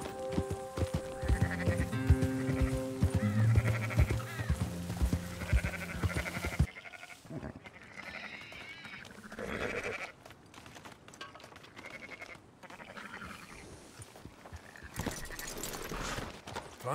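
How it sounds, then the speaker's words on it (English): Sheep bleating in Red Dead Redemption 2 over layered music and ambient game sounds, several calls spread across the clip, with some clip-clopping hoofbeats mixed in. "Fine sheep."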